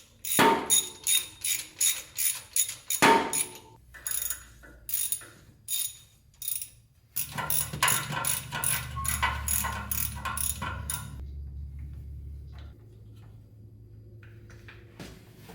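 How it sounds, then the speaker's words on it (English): A hand ratchet threads spark plugs into a 1974 Ford F100 engine with quick, close, clicking strokes in rhythmic bursts. Quieter mechanical shuffling follows before it fades out. "so I'm gonna thread them all in."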